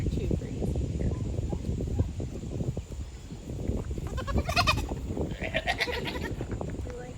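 A buck goat on a small farm bleats a couple of times while eating goat treats outdoors, under steady rustling and chewing noise with close, heavy low rumble throughout.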